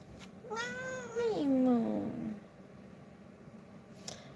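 A cat lets out one long, drawn-out meow that slides downward in pitch, close by, over a low steady background hum.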